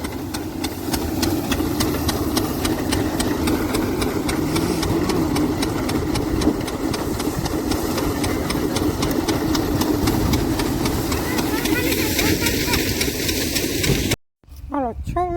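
A thresher driven by a mini tractor runs steadily on a farm, a loud continuous mechanical drone with rapid rhythmic knocking, while people talk over it.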